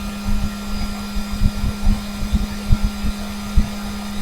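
An Orion orbital sander runs at its top speed of about 23,000 rpm, giving a loud, steady motor hum and whine with a faint irregular rattle, close by and with no voices.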